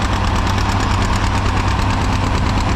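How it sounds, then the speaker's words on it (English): At a horsepower show demonstration, a 4650 two-wheel-drive tractor engine runs steadily with a dense, even, throbbing rumble, loud and close, without any talking. "That's a tractor I would own. 4650, 2-wheel drive,"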